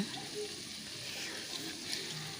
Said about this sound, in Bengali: আর সসের বাটি ধোয়া জলটাও এর মধ্যে একটু দিয়ে দিচ্ছি